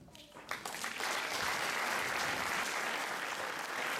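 An audience at a school music concert breaks into applause, starting with a few scattered claps and swelling within a second into loud, dense, sustained clapping that carries on to the end.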